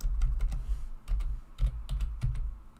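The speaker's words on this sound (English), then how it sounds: "I'm typing." Fingers type on a computer keyboard in quick, uneven bursts of close, clicky keystrokes with heavy thumps beneath, pausing briefly between runs.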